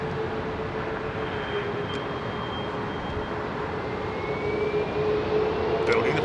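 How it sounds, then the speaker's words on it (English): Emirates Airbus A380 jet engines idle at London Heathrow during pushback, a steady whining hum with a faint rising tone, heard from a distance under a continuous broadband roar. "Emirates 380 pushing back"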